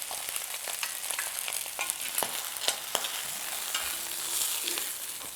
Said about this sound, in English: That oil is popping.